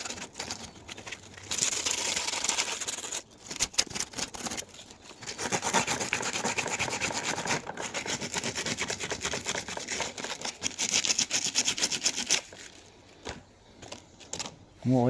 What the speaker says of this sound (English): We'll give them a little bit of a sandpaper as well.